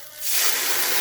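Sauce poured into a hot pan with chicken hisses up sharply after a quiet start, settling into a steady, close sizzling spray that fills the rest of the moment.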